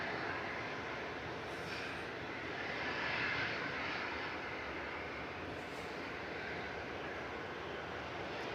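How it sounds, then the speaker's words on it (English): A NetJets Bombardier Global 6000 business jet at Manchester Airport gives a steady, distant broadband jet roar that stays fairly faint and even throughout, with no talking. "This is NetJet's Bombardier Global 6000 CSGLB."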